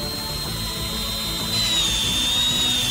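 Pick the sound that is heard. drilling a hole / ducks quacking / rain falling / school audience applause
drilling a hole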